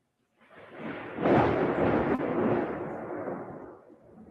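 Loud thunder breaks in suddenly as a deep rumble with a sharp crack. It then rolls on steadily for several seconds before slowly fading.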